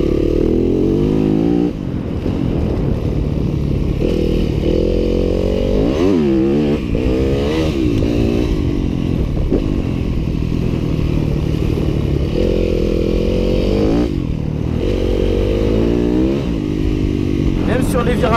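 A 2015 Yamaha WR-F 250 four-stroke dirt bike revs and pulls hard while being ridden, its engine note rising and falling through repeated accelerations, loud and close, with mechanical clatter and a rider talking over it.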